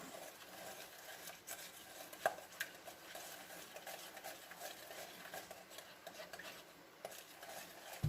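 Cheesecake batter with cinnamon and nutmeg being stirred in a bowl, a steady soft scraping and rubbing with a few light clinks of utensil on dish, fairly quiet and close, no talking.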